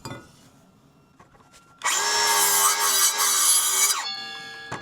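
A circular saw bites into wood for a tiny-house stair ladder, starting suddenly with a loud, harsh whine that runs steadily for about two seconds before cutting off, with quieter handling sounds before and after.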